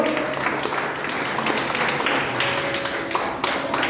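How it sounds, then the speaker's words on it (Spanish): A church congregation applauds the Lord together, a steady wash of clapping from a sizeable crowd with a few sharper taps standing out, continuous and moderately loud throughout. "Den un fuerte aplauso al Señor."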